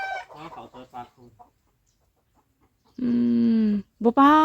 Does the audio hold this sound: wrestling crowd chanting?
no